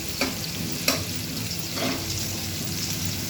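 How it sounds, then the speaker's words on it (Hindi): Mixed vegetables frying over a high flame for sabzi, a steady broadband sizzle with a few sharp stirring clinks and scrapes near the start, close and continuous, no talking. "ये फ्राई हो रही हैं, बस इनमें 5 मिनट फ्राई करना है इन दोनों को।"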